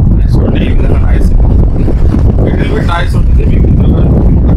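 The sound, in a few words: Crompton Optimus 65 litre air cooler running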